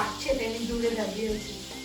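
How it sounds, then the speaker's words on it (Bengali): Fish sizzles in a hot pan with scraping stirs and clinks, a bustling frying hiss close by, with no clear speech. "এদিকে মাছ ভাজা শুরু করে দিয়েছে"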